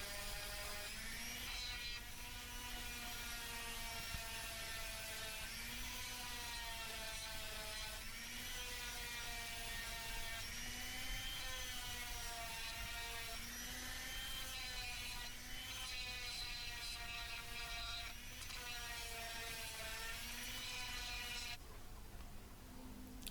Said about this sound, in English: I just gave those a good sanding as well